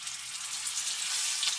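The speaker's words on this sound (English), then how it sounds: "that slow sizzle that ramps up as you lower it in" A grunt fish fillet sizzles steadily in a hot pan as it is lowered in, a dense, close hiss with slight swells and no talking.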